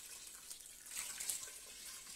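Water from a tap pours steadily into a cooking pot holding chicken wings, a close, continuous splashing hiss that swells slightly midway.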